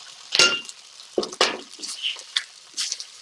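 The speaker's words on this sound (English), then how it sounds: "So I'm going to crack 2 eggs in here." Two eggs cracked into a wok for fried rice: sharp clinks and taps of shell on metal, then scattered smaller knocks and clatters, close by with no talking.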